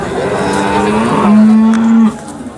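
A single cow moos once in a long, low, steady call lasting about a second, close and clear against the background murmur of a busy Sangola cattle market.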